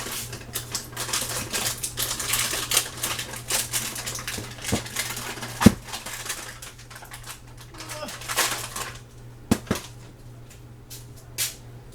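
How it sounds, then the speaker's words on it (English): A can of tuna being opened with a manual can opener in a kitchen: a long run of rapid metallic clicks and ratcheting taps, close and fairly loud, with a few sharper clanks, a steady low hum underneath and occasional voices. "Let me open another can of tuna."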